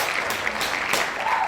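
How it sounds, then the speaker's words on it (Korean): Applause from a children's church service congregation celebrating a return to in-person worship, a steady broadband clatter of many hands clapping continuously for about a second and a half at moderate loudness. "우리 박수 한번 치겠습니다."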